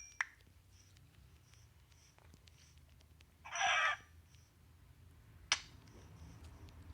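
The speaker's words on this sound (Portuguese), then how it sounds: "Epa, galinha. Chega, galinha." A chicken in a survival video game gives a couple of short squawking clucks, one sustained burst in the middle and a sharp one later, over a quiet background.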